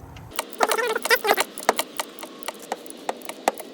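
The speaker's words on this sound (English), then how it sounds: "then we'll get the socket wrench and then we'll tighten the bad boy up properly" A socket wrench ratchets in short bursts of quick clicks, then slower single clicks, while tightening the PCV valve on an FJ Cruiser, close up and fairly quiet.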